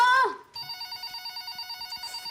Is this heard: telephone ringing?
yes